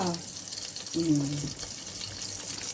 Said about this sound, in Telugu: ఇప్పుడు పచ్చిమిర్చి ఆవాలు జీలకర్ర పోపు వేసుకోవాలి